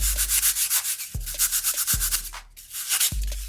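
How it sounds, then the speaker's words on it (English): Sanding block rubbed over ultra thin foam board in quick back-and-forth strokes, a close, steady scratchy rasp with brief thumps as the block resets between passes. "I go ahead and just use my sanding block. Sand it down."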